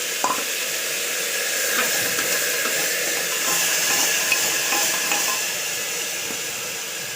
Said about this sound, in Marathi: हे मी फोडणीत टाकते थोडंसं परतून घ्यायचं त्यानंतर हे मसुरा टाकायचे आहेत आपल्याला त्याच्यामध्ये